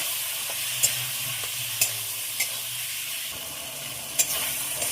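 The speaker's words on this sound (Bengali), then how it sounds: "বাটা মশলা দিয়ে খুব ভালোভাবে নাড়বো।" Potatoes fried with ground spice paste sizzle steadily while a spoon stirs them, with a handful of sharp metallic taps against the pan at irregular intervals and no talking.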